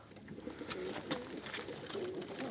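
Pigeons in a coop coo softly and steadily against a low, faint background hum, with no talk.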